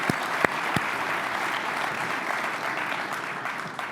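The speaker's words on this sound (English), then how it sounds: "I thought Sam would clap to that." Sustained audience applause fills a hall during a State of the City address in Grand Rapids, a dense, even clapping from a large crowd with a few sharper claps standing out near the start.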